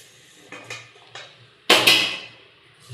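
A spatula scrapes and clinks against a pan while sweet pooranam filling for kozhukattai is stirred and roasted. A few light taps are followed by one louder, harsher clatter that fades, with no voices.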